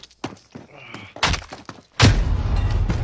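Video game gunfire: a few sharp shots and thuds, then a loud blast that trails into a sustained rumbling roar.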